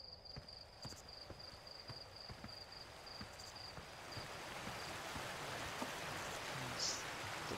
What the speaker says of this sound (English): Waterfall brings water in.